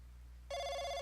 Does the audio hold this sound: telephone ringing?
yes